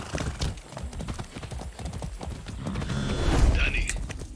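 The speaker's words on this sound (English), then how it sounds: "Let's go, horse. Come on. Easy now, easy." A horse gallops in the video game Far Cry 6, its rapid clip-clop hoofbeats running steadily and loudly throughout, with a brief whinny near the end under game music.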